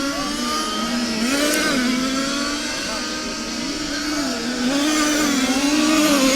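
Radio-controlled large-scale touring cars racing at a European championship qualifying heat, a steady high-pitched engine whine rising and falling as the cars lap the track, continuous and fairly loud.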